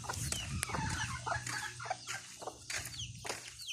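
Chickens at a backyard coop cluck and squawk in quick, overlapping calls, close and moderately loud, over a low steady background hum and with no speech.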